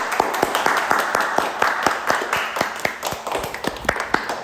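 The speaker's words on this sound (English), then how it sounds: "So round of applause for these two" A small audience claps in a cooking demonstration of arepas, with distinct, fairly sparse hand claps in an uneven rhythm for a few seconds. Background talk murmurs underneath.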